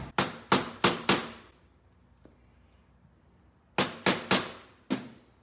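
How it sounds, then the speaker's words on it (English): A hammer taps a bolt into place on the front suspension of a 2015 BMW R 1200 GS during a spring kit install, in a group of four sharp metallic strikes, a quiet pause, then three more and a final single hit. "Just hit it with a hammer."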